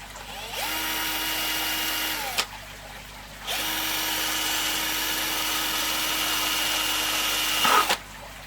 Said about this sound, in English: And you just got to drill that hole through like that.